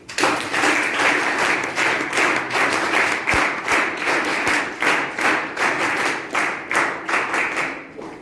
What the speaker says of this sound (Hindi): एक बार सब आप लोग अपने लिए ताली बजाएं।